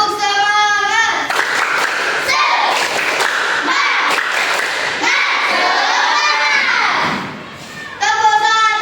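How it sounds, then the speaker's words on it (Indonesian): A school class does a rhythmic spirit-clap routine, bursts of sharp group claps and thumps alternating with children's chanting and shouting, loud and close, with a teacher speaking at the start and end. "coba kita tepuk semangat dulu"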